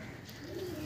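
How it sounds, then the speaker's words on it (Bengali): Madras pigeons coo softly, one low rising call near the end over a quiet, busy background. "তো বন্ধুরা দেখো সব ম্যাট্রাস লাইনের পায়রা থাকছে, খুব অ্যাক্টিভ পায়রা আছে ছটফটে"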